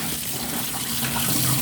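Tap water runs steadily into a kitchen sink as food is rinsed, a continuous close splashing hiss with no pauses across the short stretch.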